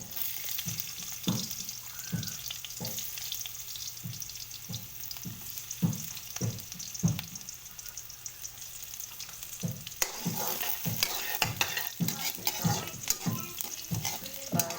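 Garlic sizzles steadily in a pan with ginger, with a spatula scraping through it in a fairly regular rhythm of sharp strokes that grow busier toward the end; close and clear, with no talking.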